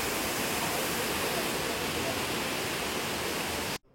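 Cheeyappara Waterfalls in Munnar, Kerala, roars as a dense, steady wash of falling water in light drizzle, filling the scene continuously until it cuts off abruptly at the end.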